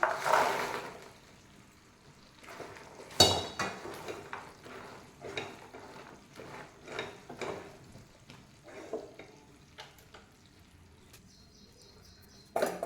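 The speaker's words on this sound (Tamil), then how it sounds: "இந்த டைமில் நம்ம சீடையை போட்டு மிக்ஸ் பண்ணிக்கலாம்" Fried seedai dough balls being stirred into boiling sugar syrup in a pot, giving intermittent soft scrapes and wet clatters that come in irregular bursts, with a sharper knock near the start.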